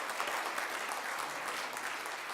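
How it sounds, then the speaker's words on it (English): Steady, dense applause from a talent show audience in St Johns, a continuous wash of clapping at even loudness throughout with no talk on top. "Let's give her another round of applause."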